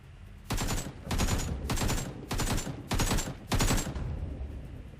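Six bursts of automatic gunfire from a mediocre gun loaded with low-quality ammo in the survival video game Survive and Rise, each burst about half a second long with short gaps, close and loud with no talking.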